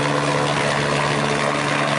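A helicopter water-bombing a fire at the Suwung landfill in Bali drones loudly and steadily throughout, with a constant rotor and engine hum and no voices.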